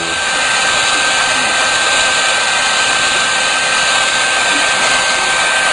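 A heat gun blows steadily on thin shrink tubing over a wire, a loud, close, continuous airy roar with a faint high whine, unbroken throughout.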